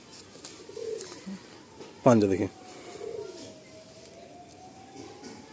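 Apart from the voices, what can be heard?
Madrasi pigeons cooing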